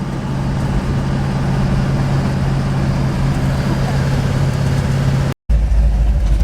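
A 1957 Chevrolet drives with its engine droning steadily and loudly from inside the car, a low, even hum that cuts out briefly near the end before resuming.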